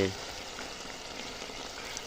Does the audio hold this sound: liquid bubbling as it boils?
yes